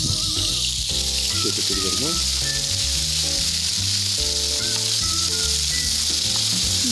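Food seasoned with salt and pepper fries in a pan, giving a loud, steady sizzle that hisses continuously over music while someone speaks briefly.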